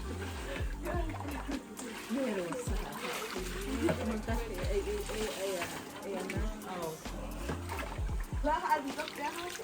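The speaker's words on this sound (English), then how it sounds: "I guess it's a cool experience of me washing my own pants after being in the sauna" Pants being washed by hand in water after a sauna visit in Guatemala, with repeated splashing and sloshing in steady bursts close by, under near-continuous talk.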